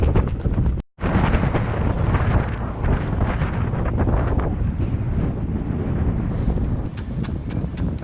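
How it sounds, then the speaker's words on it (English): Steady, loud wind buffeting the microphone throughout, with a brief dropout near the start and a roaring, rumbling texture. "Ooh, windy."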